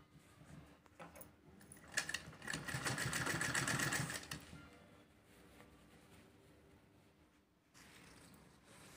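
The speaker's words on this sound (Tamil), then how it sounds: "இப்போ வந்து கைப்பிடி வந்து தச்சு டபுள் தையல் போட்டாச்சுங்க." A sewing machine runs a double line of stitching along the handle of a jumbo grocery bag, a close rapid whirring burst of about two seconds between quieter handling and light clicks.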